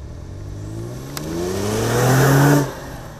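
A 2022 Genesis G7D luxury sports sedan accelerates hard as the gas pedal goes down, its engine note climbing steadily in pitch and loudness over a couple of seconds before cutting off, close and alone.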